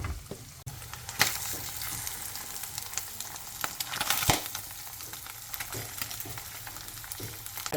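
Food fries in a pan for an English breakfast, a dense crackling sizzle close by, with occasional louder pops and scrapes of a utensil through the spitting fat.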